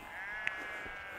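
A sheep bleats once, briefly, in a field, a clear single call standing out over a steady low outdoor hum with no talking.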